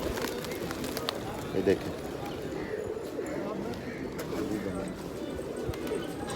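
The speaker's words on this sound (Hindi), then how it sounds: "ये बहुत ज़्यादा कबूतर हैं इधर" Pigeons coo softly amid a busy outdoor bustle at the Bahauddin Zakariya shrine in Multan, with people talking over steady crowd noise and scattered clatter.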